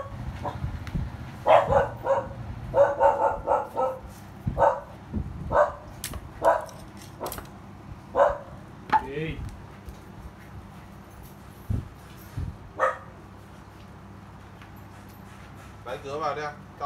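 A dog barks in short, sharp bursts at a home, several scattered barks over the first half, with someone speaking in between and quieter room noise after.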